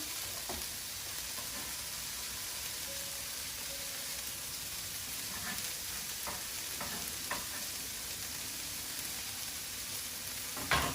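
Mushrooms stir-fry in a pan with rosemary and thyme, giving a steady, soft sizzle throughout with a few faint scrapes and stirring clicks, with no voice.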